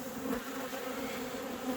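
Honeybees hum steadily at a beehive on a rainy day, a dense, even buzz of many insects close by with no voices.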